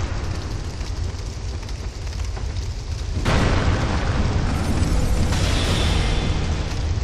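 A fire attack blasts during a Dark Souls 2 boss fight, a loud rumbling roar of flame that surges into a brighter, fuller burst partway through and keeps roaring to the end.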